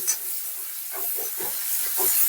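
Finely chopped tomatoes tipped into frying onions in a pan bring a steady, close hissing sizzle that runs throughout, with soft stirring scrapes partway through and no talking.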